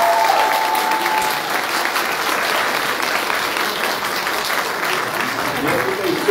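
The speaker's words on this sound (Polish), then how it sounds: "Szanowni Państwo, jeszcze raz wielki brawa" A crowd at a folk music event applauds a band, a thick, continuous wash of clapping with a brief high tone at the start, sustained at a fairly loud level throughout.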